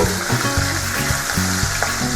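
Pieces of rohu fish fry at medium heat in an oil-filled wok, a steady close hiss and sizzle with small crackling pops throughout.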